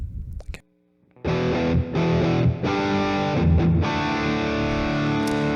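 Electric guitar through a distortion pedal profile with an impulse response and reverb, playing loud, sustained chords after a brief quiet pause, ringing continuously with no voices.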